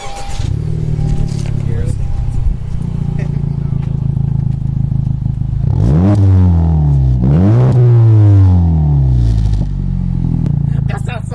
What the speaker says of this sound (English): So this is the M8 Performance exhaust